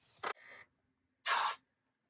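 Two short hissing bursts of aerosol room spray, a quick one followed by a longer, louder blast after a brief pause, close by with no talking.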